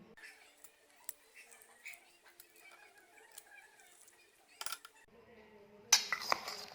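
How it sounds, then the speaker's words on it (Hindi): A spoon mixes moong sprout salad with chaat masala and lemon in a bowl, giving scattered faint clinks and scrapes, with a louder clatter of spoon against bowl near the end. "अब इसको अच्छे से मिक्स कर लें।"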